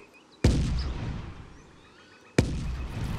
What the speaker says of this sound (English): Looks like cannons.